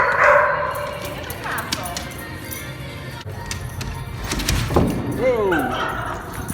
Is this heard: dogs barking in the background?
yes